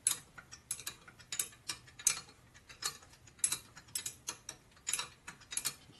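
A ratcheting wrench turns 12-point bolts on a 1979 Harley shovelhead 80ci engine during a rebuild, with rapid bursts of crisp ratchet clicks repeating in a steady working rhythm close by.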